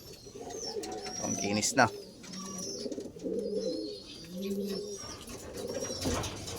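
Racing pigeons coo softly in a loft, several low throaty coos repeating in short phrases, with a brief flutter of wings and a person speaking briefly nearby.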